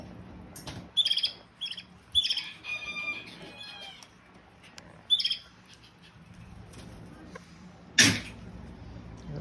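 Pet canaries chirp and call from the top of a cage indoors, with several short bright bursts of song spread across the clip and one louder call near the end, over a quiet background hum.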